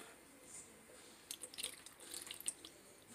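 Tamarind juice splashed into a Thai papaya salad (som tum) as it is made, giving a few faint, brief liquid splashes and drips close by over a quiet background.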